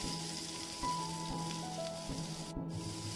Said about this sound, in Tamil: பொன்னிறம் வர வரைக்கும் இது பொரியட்டும்